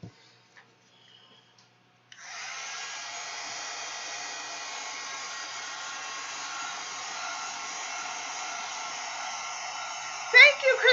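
After a brief quiet start, a hair dryer switches on and blows a steady, loud whooshing hum over a mixed media canvas to dry a light coat, running continuously to the end with a few faint clicks.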